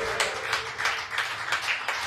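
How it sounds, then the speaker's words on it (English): Live show audience applauding for bands: a small crowd claps in a steady patter with soft rhythmic peaks, fairly close and moderate in loudness. "Can we have a round of applause for Forrester and for Mellow Honey real quick"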